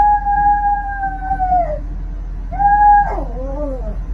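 A cat lets out two long, drawn-out howling meows, the first held for over a second and the second rising into a wavering wail, loud and close over a low background hum.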